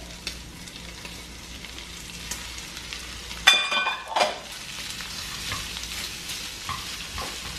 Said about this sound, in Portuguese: O bacon já começou a fritar